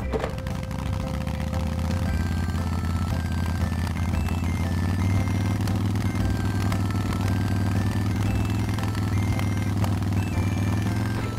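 A red toy motorcycle at an indoor playground gives a steady, continuous engine-like hum with some clatter, holding at an even level throughout.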